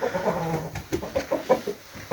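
Roosters at a village poultry yard in Yangibozor, Khazarasp district, Khorezm, giving a series of short clucks and calls in rhythmic bursts, moderately close with no speech.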